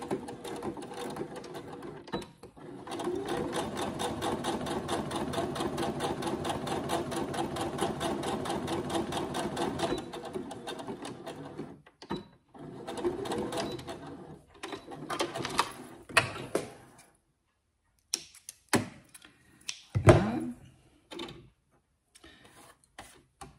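A sewing machine set to a standard straight stitch sewing small seams about 1 cm from the fabric edge for a small seat-belt shoulder pad, with a long steady rapid whirring run followed by shorter stop-start bursts and pauses.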